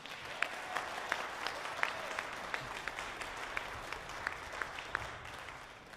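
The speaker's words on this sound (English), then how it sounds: "So I think that deserves a round of applause" An audience claps for honor band students at a concert, a steady, moderately distant round of applause with individual claps standing out, then tapering off near the end.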